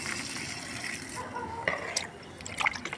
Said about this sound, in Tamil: இங்கே பாருங்கள் ரோஸ் செடிக்கு கொஞ்சம் ஊற்றுங்க